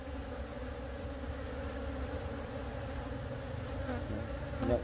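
A crowded honeybee colony drones steadily at the hive, a dense, even buzz heard up close for the whole stretch, with a slight swell at the very end.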